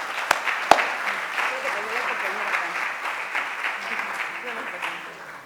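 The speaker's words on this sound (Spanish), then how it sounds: "pido para Elia también un aplauso" An audience applauds for a speaker at a talk on pensions, health care and elder care, a steady moderate patter of many hands sustained throughout with a couple of sharp louder claps near the start.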